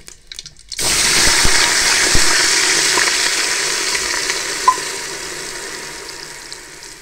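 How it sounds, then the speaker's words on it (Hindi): Water poured into hot sizzling ghee tempered with fennel, cardamom and cloves bursts into a loud, sustained hiss that slowly eases, with a faint clink partway through. "इसमें आप पानी शामिल करेंगे।"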